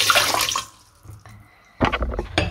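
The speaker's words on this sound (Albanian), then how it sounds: "Si fillim në tas do të shtojmë një gotë me ujë." Water from a glass poured into a mixing bowl while preparing a cornmeal and spinach lakror, a short close splash, a pause, then a second louder gush of pouring.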